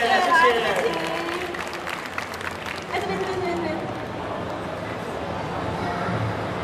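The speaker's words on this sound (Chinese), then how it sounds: "让最后一个盛大的掌声" An audience applauds at a stage finale of a gaming brawl event for a site anniversary, with crowd clapping that swells early and then settles into continuous moderate applause. A host talks over the start.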